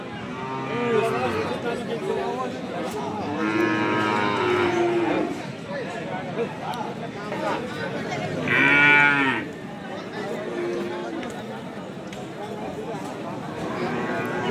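Cattle moo repeatedly at a livestock market, some calls long and loud, over a steady bustle of distant voices and market chatter.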